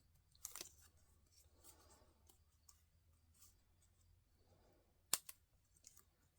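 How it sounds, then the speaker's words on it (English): Scissors snip out paper tree limbs for a stamped card: a few faint, quiet cuts with one sharp, crisp snip near the end, the rest near silence. "You just take your scissors and you just cut out the tree limbs."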